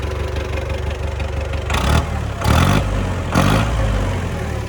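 A loud tractor engine idles with a rough, throbbing exhaust, then revs hard three times in quick bursts, each roar cutting back to idle.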